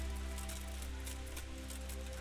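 Steady rain falls in Kingdom Come: Deliverance on a night road in open country, a constant hiss of drops with a low hum underneath and no voices.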